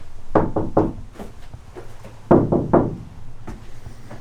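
Knuckles rap a van's metal wall fitted with sound-deadening material, two close, dull triple-knock bursts followed by a lighter single tap, with short pauses between them.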